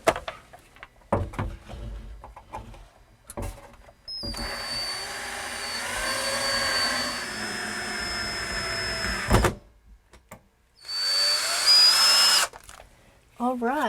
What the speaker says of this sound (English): I'm going to screw this right into the stud.